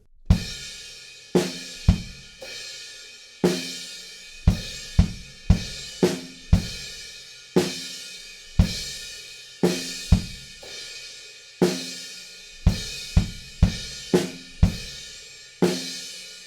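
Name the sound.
drums with crash cymbal played over the beat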